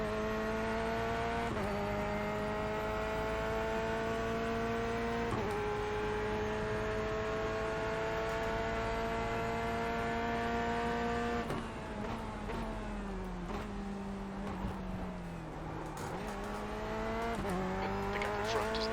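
Race car engines in an iRacing IMSA race at the Charlotte Roval, with a Corvette and a BMW in the field, roar steadily at high revs, shifting and bogging down midway before climbing again, with brief tire squeal.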